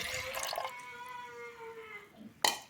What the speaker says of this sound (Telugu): ఉడికేదానికి సరిపడా వాటర్ పోసేసుకోవాలి